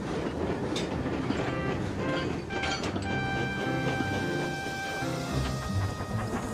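A video game train in Trainz rolls along with rattling wheels and clattering cars, joined midway by a sustained high whistle-like squeal, steady and moderately loud throughout.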